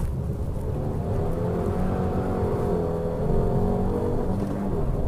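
Fiat 500 with a 0.9 turbo engine cruising along, a steady low engine drone and road rumble heard from inside the car, continuous and even with no voices.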